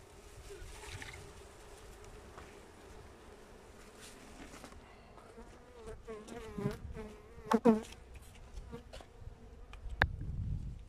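Honeybees buzz steadily around hives while sugar syrup is fed to the colonies, a constant close drone with a few louder knocks and handling sounds toward the end.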